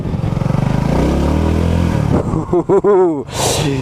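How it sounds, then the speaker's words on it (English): A Honda CB250RS motorcycle engine drones steadily, then revs up and down in several quick rising bursts, ending with a rushing hiss. "Get a bit more revs."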